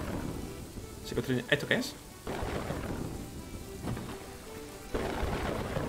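Rain and rolling thunder in the city-building game Kingdoms and Castles, a steady wash of rainfall with soft rumbles, under a man's occasional speech.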